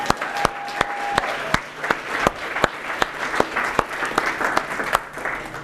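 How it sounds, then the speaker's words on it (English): Audience applause filling a room, dense steady clapping with a few loud nearby claps standing out in an irregular rhythm, sustained throughout. "Please, another big round of applause for her."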